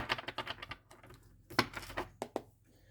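Two decks of cards being shuffled together, a rapid flurry of crisp, fluttering riffles followed by a few sharper snaps and taps, close and clear with no talking.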